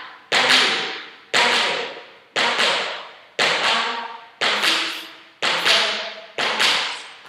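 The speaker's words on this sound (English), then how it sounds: "So we forward hit, backward hit, only utilising again the toe tap." Tap shoes striking the floor with toe taps in forward and backward hits, seven crisp, evenly spaced taps about a second apart, each with a sharp attack and short decay, close and alone.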